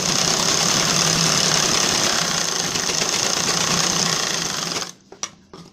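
A sewing machine stitching blouse lining: a steady, loud, rapid mechanical whir that runs close by for about five seconds, then stops, followed by a few faint clicks.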